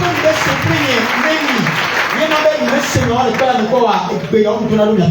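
A church congregation bursts into sustained applause and cheering, loud and continuous, with a preacher's voice carrying over the crowd noise.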